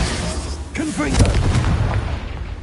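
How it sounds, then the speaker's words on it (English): A Confringo fire spell blasts in Hogwarts Legacy, a loud booming burst with crackling spread, heard close and mixed with a character's voice and game sound. "Confringo!"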